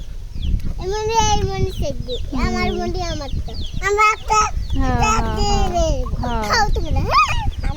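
Chicks cheep and chirp in rapid, high trills close by, nearly continuous throughout, with a voice mixed in.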